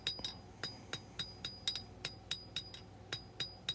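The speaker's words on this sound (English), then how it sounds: "So now we'll forge in the point." Steel knife blank being hand-hammered at the anvil to forge in the point: a steady series of sharp, ringing metallic strikes, about three per second, close and loud with no talk.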